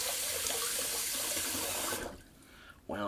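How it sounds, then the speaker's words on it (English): A kitchen tap runs steadily as a counter is rinsed after wet shaving with a safety razor, a close, even hiss of water that cuts off after two seconds, followed by a short voice. "Just rinse off the counter."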